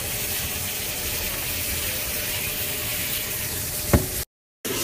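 About a pound to a pound and a half of seasoned ground beef cooks in a pan with a steady broadband sizzle and crackle throughout, a brief clatter near the end, then a short gap of silence.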